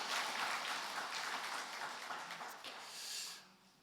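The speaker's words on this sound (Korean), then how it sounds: "같이 축복의 박수하면서 함께했습니다" A church congregation claps steadily in a dense, even patter of applause during a Sunday afternoon worship service, fairly distant and soft, tapering off at the end.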